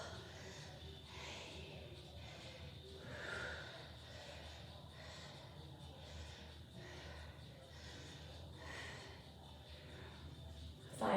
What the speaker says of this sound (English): you will hear me breathing heavy